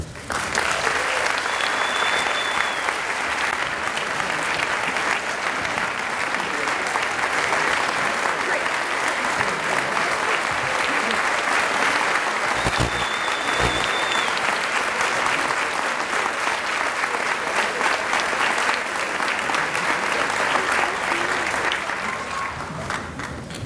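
A large audience at a centennial convocation gives sustained, loud applause that continues evenly throughout as an alumnus is welcomed to the podium.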